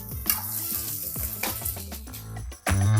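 Onions hitting hot oil with garlic already in the pan for a mint chutney give a sizzling, crackling fry with stirring clatter throughout, and a louder, fuller burst of sizzle near the end as more goes in.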